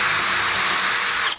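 A power drill fitted with a 6mm bit whines steadily at high speed while drilling a hole, for a threaded bar in a deer antler thumbstick, then winds down at the end; loud and close, with no talking.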